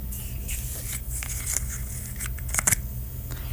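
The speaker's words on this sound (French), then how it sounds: "Et je vais ouvrir le bouchon." Opening the cap and aluminium seal of a Zico coconut water bottle: soft plastic twisting and crinkling, then a brief sharp crackle of the foil seal tearing near the end, close and fairly quiet.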